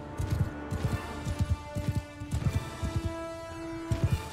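Horse archers of the Khuzait faction gallop in Mount & Blade II: Bannerlord, their hooves drumming in quick, uneven clusters of clip-clop beats over a steady tonal game background, with a brief whinny.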